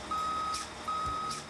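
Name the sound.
backup alarm of surface mine equipment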